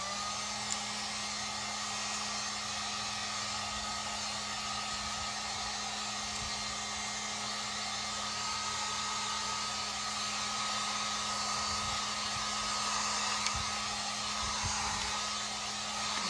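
A hair dryer blows in a steady, unbroken whir, close and loud, as it dries a craft piece for a face mask holder, with no voices.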